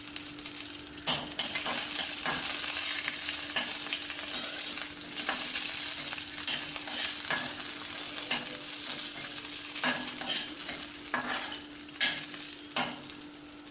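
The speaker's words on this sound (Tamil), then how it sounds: "இப்போ கிஸ்மிஸ் பழத்தை போடுவோம்." Raisins fry in hot ghee for semiya payasam, a continuous close sizzle with stirring scrapes, no talking.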